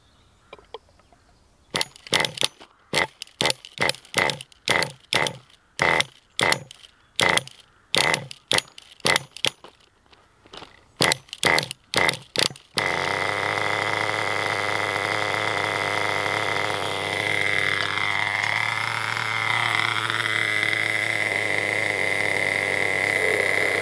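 A green nitro RC car engine during bedding in, first sputtering in short regular bursts as it fires and cuts out, then settling into a continuous loud, buzzing run with a rising and falling whine.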